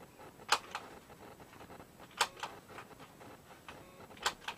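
A craft corner-rounding punch trims the corners of paper for a Graphic 45 Place in Time mini birthday book, giving three sharp, close clicks about two seconds apart with faint paper handling between them.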